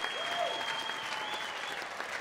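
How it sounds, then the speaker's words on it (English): An audience applauds and cheers as two speakers are welcomed onstage at a business conference, a dense, steady clapping that fills the whole moment with a sustained whistle-like tone above it. "Let's hear it for Kevin Kaufman and Fred Weaver."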